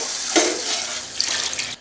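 A short rush of water pouring into a pot of rice for pulao, a steady splashing hiss lasting under two seconds before cutting off.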